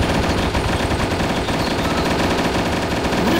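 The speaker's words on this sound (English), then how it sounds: "I love machine guns" Sustained machine gun fire in the video game Arma 2, a loud, unbroken stream of rapid shots hammering steadily throughout with no pauses and no voices.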